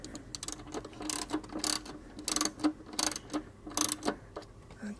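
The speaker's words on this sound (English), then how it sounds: "We're going to come in here with a number 3 Phillips socket adapter and we're going to work these off" A number 3 Phillips socket adapter on a ratchet works screws loose on a GM OBS Chevy/GMC truck cruise control, giving a faint, steady series of close ratcheting clicks and ticks.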